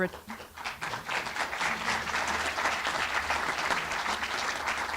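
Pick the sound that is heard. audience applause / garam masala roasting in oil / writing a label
audience applause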